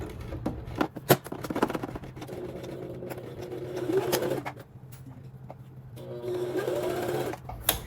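A sewing machine stitches fabric for a McCall's 7976 top in short bursts of rapid mechanical whirring, with pauses, clicks and handling noises in between, close by and fairly quiet.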